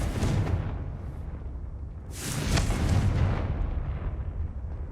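A Confringo spell blast in Hogwarts Legacy erupts as a booming explosion, with a first burst early, a second heavier blast at about two seconds, and a rumbling tail that lingers without speech.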